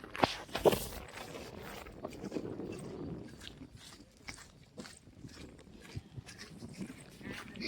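Cows walking on a village farm, with scattered hoof steps and shuffling at moderate distance, a few brief livestock calls and faint background voices.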